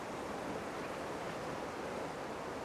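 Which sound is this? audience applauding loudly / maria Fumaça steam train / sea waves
sea waves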